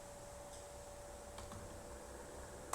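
Keystrokes on a computer keyboard while a command is entered on a file-transfer server: sparse, faint clicks spaced through the quiet, ending in a sharper tap, with a steady low hum underneath and no talking.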